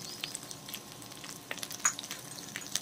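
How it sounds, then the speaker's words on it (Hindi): Chicken frying in ghee in a pan, a soft steady sizzle with light stirring clicks and scrapes, heard close and alone. "6 से 7 मिनट तक हम घी के अंदर फ्राई करेंगे चिकन को।"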